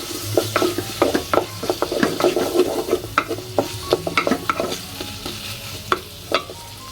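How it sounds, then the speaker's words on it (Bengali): Potatoes are stirred and sautéed in a pan, with frequent rhythmic spatula scrapes and knocks rising over a gentle, constant sizzle, close and fairly loud. "এখন হালকা একটু কষিয়ে নেব আলুটা"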